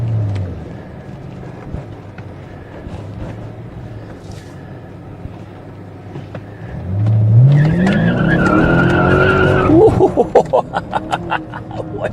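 A BMW 650i with traction control switched off does a burnout, the engine revving up as the tires break loose into a loud rising squeal, followed by a series of sharp rhythmic bursts near the end.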